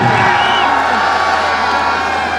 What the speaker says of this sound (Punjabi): ਇੱਕ ਵਾਰੀ ਤਾੜੀਆਂ ਮਾਰ ਦਿਓ ਦਰਸ਼ਕ ਵੀਰੋ